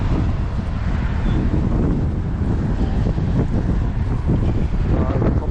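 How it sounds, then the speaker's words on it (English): Strong wind at Blackpool Pleasure Beach on a February opening weekend, buffeting the microphone in a loud, continuous rumbling roar with gusty fluctuations and no clear speech. "Proper windy."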